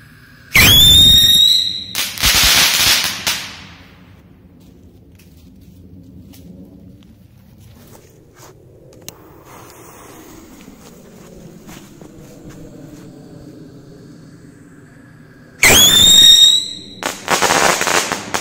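A VR1 firework rocket crackles in loud bursts, then quiet falling debris and rustling before another loud crackling burst near the end.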